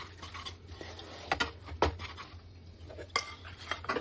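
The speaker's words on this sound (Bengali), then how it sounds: "দিয়ে ভালো করে মিশিয়ে নিচ্ছি" Utensil scraping and clinking against a bowl while chicken marinade is mixed with gram flour, a run of light taps and knocks with a few sharper clicks, close and alone.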